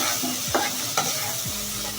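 Beef skin fries in an oily pan with a steady sizzle, broken by a few scraping stirs and clicks of a spatula close by, no talking.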